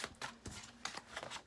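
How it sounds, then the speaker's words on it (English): Tarot cards from a slippery Postcards from the Liminal Space deck being shuffled, giving soft, quick riffling bursts and flicks up close, faint and alone without speech. "Just shuffling right now."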